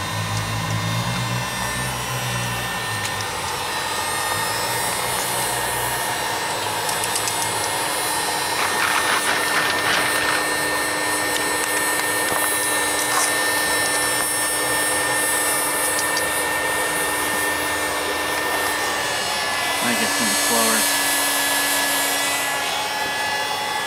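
A hair dryer blows air into a small double-air-port mini forge melting aluminum cans, giving a continuous loud roaring whoosh with a steady hum throughout and occasional clinks.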